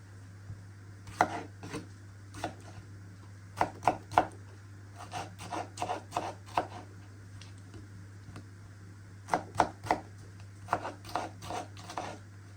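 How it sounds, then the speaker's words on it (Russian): Sharp knife chopping tomatoes on a cutting board for cutlets, irregular bursts of quick taps separated by short pauses, close and crisp over a steady low kitchen hum. "нужно помидорки для отбивных нарезать."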